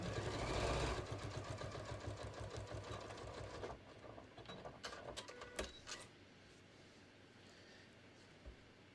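A sewing machine stitches through a foam-lined beach tote in a steady, fast mechanical whir for several seconds, then slows into a few uneven stitches and stops.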